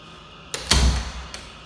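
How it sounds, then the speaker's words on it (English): An interior room door in a rental property being opened and shut, a soft click followed by a louder thud with a low bump, then a small tap, fairly close in a quiet room. "And these doors are working nicely."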